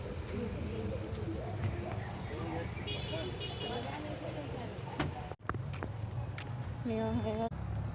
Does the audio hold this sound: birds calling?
yes